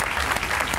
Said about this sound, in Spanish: a dar un aplauso